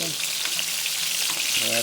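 Food sizzles steadily in a hot pan with a bright crackling hiss, while a voice talks faintly at moments.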